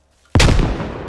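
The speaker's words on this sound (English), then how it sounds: "What a grenade. Straight in the middle." A grenade in the video game SquadOps goes off after near silence, a single loud, close blast with a sharp onset and a rumbling tail that fades over the next second.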